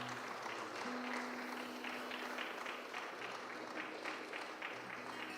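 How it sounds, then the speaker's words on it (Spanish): A church congregation gives strong applause during a Mother's Day service, a faint, steady patter of many hands clapping together while a sustained tone drifts underneath. "Damos un fuerte aplauso al Señor"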